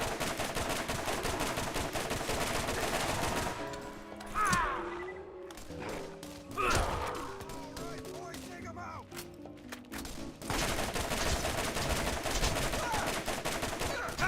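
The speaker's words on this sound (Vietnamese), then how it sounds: "mỗi khẩu súng lại cho một cảm giác bắn khác nhau, từ nhịp bắn tới sát thương" Gunfire from the first-person shooter Borderlands, with rapid bursts of shots and pauses between them, mixed with game sound effects and a dense soundtrack.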